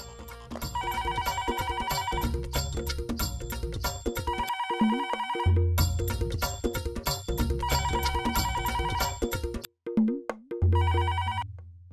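A loud electronic ringtone plays a repeating melodic phrase over and over, pausing briefly near the end before starting again.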